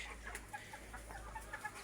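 Chickens cluck softly around a young rooster in a farmyard flock, with short intermittent calls scattered over a constant low background hum, fairly quiet and with no talking.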